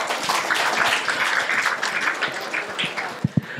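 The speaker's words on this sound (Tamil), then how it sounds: "இதுக்கெல்லாம் கைத்தட்டும்." An audience at the Madurai Digital Fest meme event applauds in a dense, steady patter of many hands, thinning toward the end with a few sharp louder claps.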